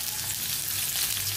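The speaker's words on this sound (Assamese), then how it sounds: "তাৰ পাছতে এতিয়া মই ইয়া মিঠা তেল গৰম কৰিছো কেৰাহীত। তাৰ পাছতে কটা পিয়াজ এইখিনি এতিয়া মই দি দিম।" Chopped onions fry in hot mustard oil in a wok, giving a steady, close, bright sizzling hiss that runs without a break and with no talk.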